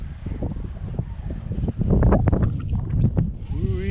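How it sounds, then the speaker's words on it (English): Strong wind on a cold day at an outdoor radio-controlled plane flying spot, roaring steadily and buffeting the microphone with loud gusts that swell midway, and a faint motor whine near the end. "we're gonna be careful today because of this wind. It's blowing pretty good."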